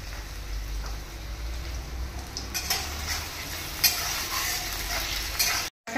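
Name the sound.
potatoes frying and being stirred in a pan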